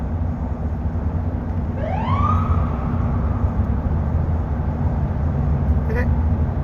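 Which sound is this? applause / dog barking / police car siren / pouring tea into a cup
police car siren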